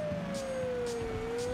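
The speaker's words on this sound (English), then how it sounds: "Turn up the siren, because obviously we need it." A police car siren from the video game Driver 2 wails in a steady, continuous tone, loud and sustained through the whole stretch with faint engine noise beneath.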